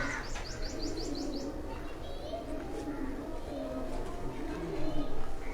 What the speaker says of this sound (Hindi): ये भी लाखी ब्रीड का कबूतर है।